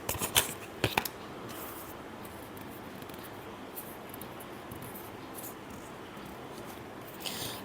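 Tarot cards get a last shuffle, a couple of quick riffling flutters at the start and a soft one near the end, separated by a long quiet stretch of faint room noise.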